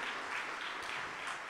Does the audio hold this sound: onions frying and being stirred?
no